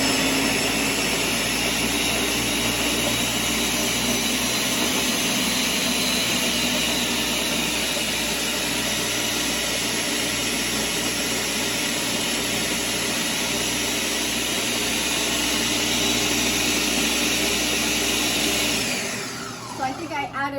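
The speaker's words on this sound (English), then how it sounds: "So let me get this on my handy dandy Ninja. Make sure I do this all right. Okay, hold that thought. We're going to start pulverizing this." A Ninja blender whirs loudly and continuously as it pulverizes basil pesto with olive oil, a dense high-pitched motor roar that holds steady for most of the stretch before winding down near the end.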